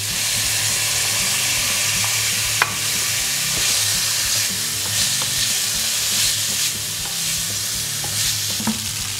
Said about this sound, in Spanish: En un poco de aceite en una sartén rehogamos el jengibre y el ajo. Y antes de que se empiecen a dorar incorporamos el tofu.